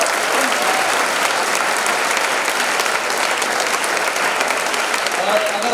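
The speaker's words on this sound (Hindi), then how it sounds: "जोरदार तालियां होनी चाहिए इसके लिए." Sustained applause from a large student audience at a startup talk, dense steady clapping that fills the whole stretch at a loud, even level with no voices standing out.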